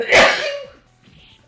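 A single loud, sharp sneeze bursts out close to the microphone during an online Darkstalkers fighting-game match, followed by a brief quiet and a voice talking faintly.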